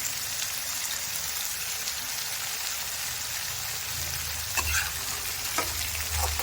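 Continuous soft sizzling and crackling of potatoes frying in hot oil, with occasional louder pops and a faint low rumble.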